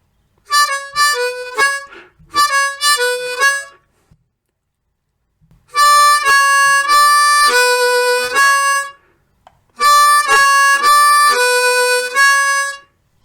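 Blues harmonica playing a repeated five-note phrase on 5 draw, 5 blow, 5 draw, 4 draw and 5 blow, heard as four loud, bright phrases with short pauses between them.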